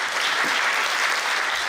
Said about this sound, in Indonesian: Sambutan tepuk tangan meriah dari penonton menutup screening film asal Papua.